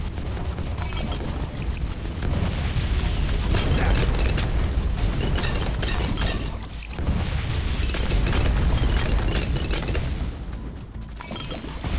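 Bloons popping in Bloons TD during a CHIMPS-mode round, a dense continuous stream of rapid pops and bursts layered with game effects, holding steady and loud throughout.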